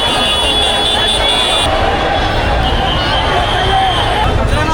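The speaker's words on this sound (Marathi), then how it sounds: "खूप गर्दी आहे बघा." A large, dense crowd at a Ganpati idol arrival procession in Mumbai, a loud continuous roar of babble and street noise filling the whole span, with people talking throughout.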